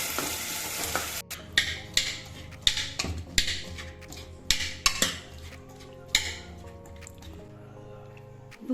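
Chickpea channa masala with green chillies is stirred and mixed in a pan, with a spoon clanking sharply against the metal about every half second over a low sizzle, close by, before a faint hum near the end.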